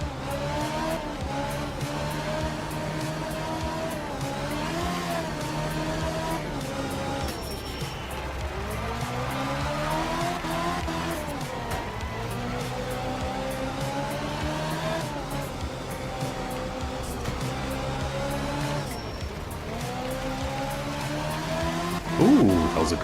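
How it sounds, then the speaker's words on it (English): A car drifts in a racing video game, its engine droning and rising and falling in pitch through the whole stretch, with tire squeal woven in and a brief sharper squeal near the end. "Ooh, that was a good drift."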